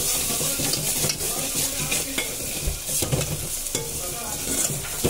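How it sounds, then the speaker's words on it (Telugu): Ginger garlic paste fries and sizzles in a pan for egg curry while a spoon stirs it steadily, with scraping strokes and a few soft clinks over a constant crackle, close and fairly loud. "ఇది ఇప్పుడు పచ్చివాసన పోయేదాకా మనము ఫ్రై చేసుకోవాలి."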